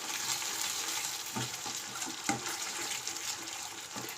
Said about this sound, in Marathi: आता यामध्येच मी थोडासा कढीपत्ता देखील घालते